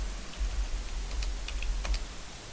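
Light, irregular clicks of typing on a computer keyboard tap out a short burst of keystrokes, fairly close and quiet over a steady low hum, with no talking.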